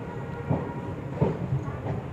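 A train rolling at Than railway station in Gujarat on the Ahmedabad to Rajkot line, a low rumble with periodic wheel thumps over rail joints, muffled as heard from inside a carriage.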